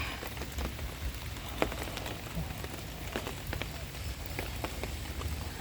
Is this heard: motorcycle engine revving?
no